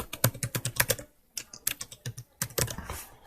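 Rapid typing on a computer keyboard at a desk, entering a tool name into search: crisp, close key clicks in quick bursts separated by short pauses, with no talking.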